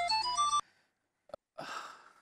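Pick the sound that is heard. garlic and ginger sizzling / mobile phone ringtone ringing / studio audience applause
mobile phone ringtone ringing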